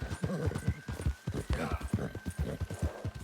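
Horse hooves in the video game Red Dead Redemption 2 clip-clop in a steady quick rhythm, close and clear, with a thin electronic tone humming in the background.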